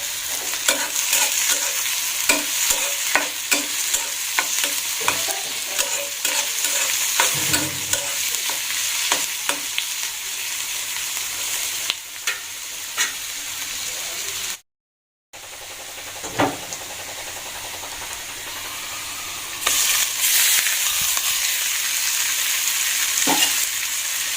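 Chopped onion and garlic frying in mustard oil in a pan, a loud close sizzle with repeated stirring scrapes and taps, briefly cutting out midway before resuming.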